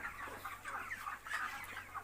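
Broiler chickens cluck softly and continuously, a faint, steady chatter of overlapping short calls with no voices.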